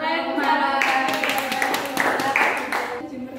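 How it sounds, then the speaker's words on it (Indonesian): Clapping hands in a fifth-grade Indonesian-language classroom, a burst of brisk applause that starts under a second in and carries on for a couple of seconds, mixed with children's voices. "Tepuk tangan untuk"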